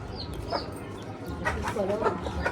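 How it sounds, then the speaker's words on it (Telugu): Chickens at a family home in a rural setting give scattered clucks and short calls, fairly close, over a steady background hum without clear speech. "ఇవన్నీ కోళ్ళు మా అమ్మ సామ్రాజ్యం"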